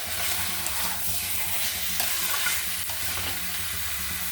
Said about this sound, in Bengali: স্বাদ মতো লবণটা দিয়ে নেড়ে চেড়ে আবার আমি ঢেকে দেবো